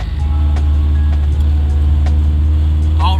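An Acura Integra fitted with new Osias motor mounts drives around the block, its engine a loud, steady low rumble heard from inside the car, with a short high squeak near the end.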